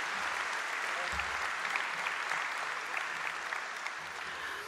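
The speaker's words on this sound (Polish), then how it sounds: "Prosimy raz jeszcze o ogromne brawa dla tych, którzy na naszej scenie właśnie teraz się znajdują." An audience at a Silesian Voivodeship self-government 25th anniversary ceremony claps steadily for award winners on stage, sustained dense applause with a few low thumps beneath it.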